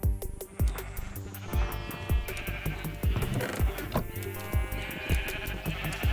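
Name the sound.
sheep bleating in video game RetroCraft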